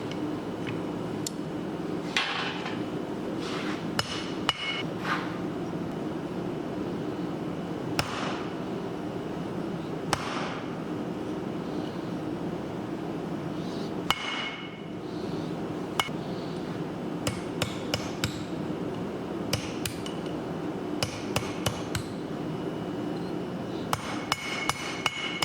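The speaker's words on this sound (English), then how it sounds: "We just hammer that little piece in there." A light hammer strikes hot steel set in an anvil's hardy hole again and again, sharp ringing blows at uneven intervals, close and steady over a low background hum, in a blacksmith's forge.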